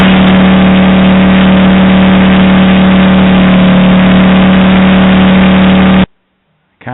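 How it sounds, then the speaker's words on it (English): A Ukrainian tank engine roars up close as a loud, steady, droning rumble that holds for about six seconds and then cuts off abruptly. "That's a tank, Ukrainian tank up close. That's the engine."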